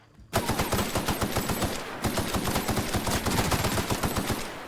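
A big gun fires in the video game The Outer Worlds as a sustained burst of rapid automatic shots in a fast even rhythm, loud and close, after a short quiet start.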